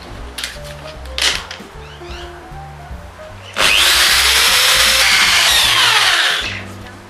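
A rotary engraver fitted with a diamond bit grinds into steel in one sustained, high-pitched burst lasting about three seconds, close and loud, after a few light handling clicks.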